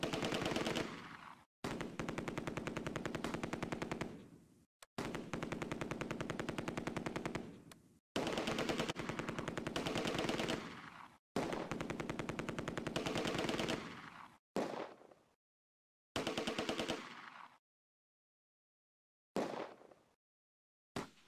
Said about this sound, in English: The Germans get a second wind and start firing at me with machine gun and Panzerschreck